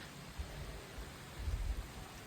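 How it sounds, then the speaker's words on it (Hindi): Heavy monsoon rain falls steadily outdoors under dark clouds during a red-alert downpour, a constant dense hiss with low rumbling swells, with no talk. "लग रहा है कि आज बारिश रुकने वाली तो बिल्कुल भी नहीं है।"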